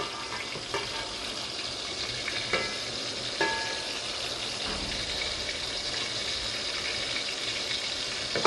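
Chicken kofta frying in hot oil, giving a steady bright sizzle throughout with a few soft clicks and bumps from a utensil, no voices.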